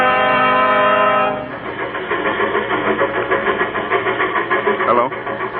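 Steady rumbling train noise with rhythmic clatter, as a sound effect in an old radio drama, begins after a brief horn-like tone and runs continuously, loud and close.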